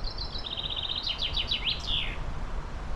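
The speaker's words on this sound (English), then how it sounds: "That's a good bird call." A bird sings a bright, rapid series of high chirps and trills for about two seconds, clear against a quiet background in woods near Rivington on a hot day.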